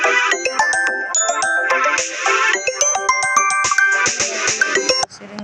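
A phone ringtone for an incoming call plays loud and close, a busy repeating electronic melody of bright tones that cuts off abruptly near the end.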